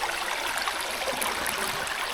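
Floodwater after a storm rushes in a steady, dense wash of flowing water, close and continuous with no voices.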